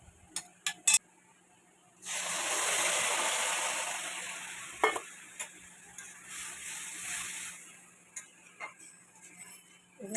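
A few sharp clicks, then lentils hit a pan of fried onions with a sudden loud sizzle that gradually fades over several seconds while a spoon stirs, ending in scattered clinks and taps.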